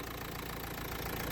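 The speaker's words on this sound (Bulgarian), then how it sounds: "Виждате мърка моторчето." A serviced Nissan car engine idles steadily at close range, a continuous low rumble with a faint rhythmic knock running underneath and no voices.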